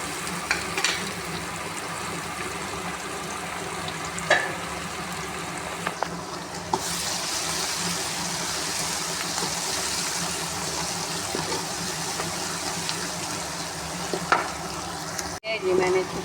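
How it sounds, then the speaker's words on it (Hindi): Ginger, garlic and chili paste fry with golden-brown onions for cauliflower masala, a loud, steady sizzle close by, with occasional spoon taps and stirring and a brief clatter near the end. "अब इसको इसके अंदर ये मैं डालूँगी अदरक लहसुन और मिर्च का पेस्ट डालूँगी, अच्छी बुनाई कराऊँगी।"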